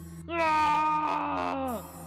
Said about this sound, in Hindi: तभी विजय को भीमा की चीख सुनाई देती है।